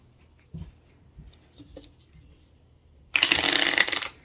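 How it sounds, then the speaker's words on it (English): Moon oracle card deck of nice cardstock being handled: a few soft taps and rustles, then a close, bright riffle shuffle lasting about a second, crisp and loud against a quiet room. "So we're going to give this a shuffle."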